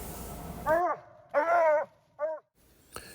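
A coon dog bays from a distance at a raccoon treed in a branch fork outdoors at night, giving three drawn-out, intense howls separated by brief silences.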